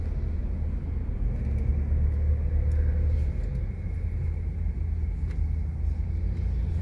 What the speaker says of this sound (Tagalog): So dahil tanghali na mga ka-drive, yan mag-uumpisa na yung traffic